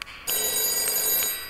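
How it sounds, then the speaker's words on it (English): A telephone rings in the horror video game Five Nights at Darl's Remake, a loud, steady electronic trill that starts after a short quiet moment and carries on alone. "Phone call?"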